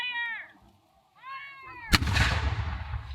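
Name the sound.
6-pounder cannon firing at war reenactment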